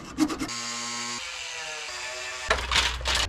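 A power tool cuts into a steel car bumper on a BMW E34, a gritty whine with tonal buzzing, louder bursts at the start and end and a steadier humming stretch in between.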